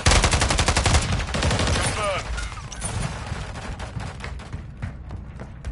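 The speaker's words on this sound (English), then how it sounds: "Why the guy keep shooting me?" Rapid automatic gunfire in a Call of Duty Modern Warfare 3 multiplayer match, dense bursts up front that thin into scattered shots, loud and close, with game chatter mixed in.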